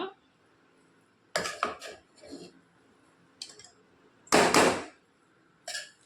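Cooked tomato rice being stirred in a pot, several sharp metallic scrapes and clanks of a spoon against the vessel in irregular bursts, separated by near silence.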